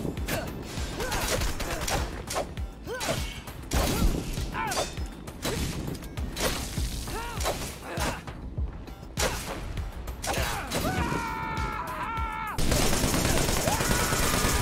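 Machine-gun fire in the hack-and-slash shooter Wanted: Dead, with long stretches of rapid, loud bursts and mechanical clatter, and someone talking in Spanish over the shooting.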